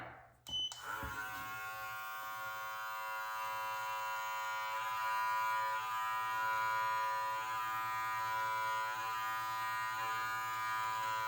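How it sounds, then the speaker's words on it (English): An electric beard trimmer run down the face of a beard hums steadily and close up for several seconds after a brief click at the start, with a faint irregular rasp of hair and no voices. "I'm just going to run this plate pretty much down the face of my beard"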